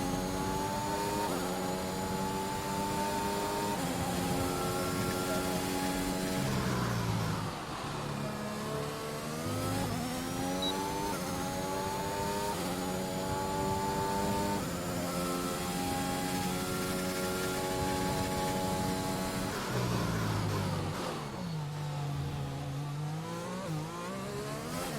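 A Formula 1 car engine in F1 2021 at the Austrian GP screams loud and close through a lap, revs climbing and dropping with quick gear shifts, and no voices.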